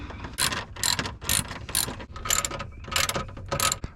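Ratchet strokes remove 7 mm bolts on a 2003 Silverado, sounding as about seven quick, loud clicking bursts in an even rhythm close to the listener.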